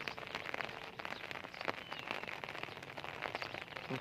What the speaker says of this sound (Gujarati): અત્યારે જેવું લાગે વરસાદ આવે એવું છે